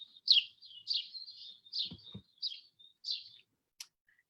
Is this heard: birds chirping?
yes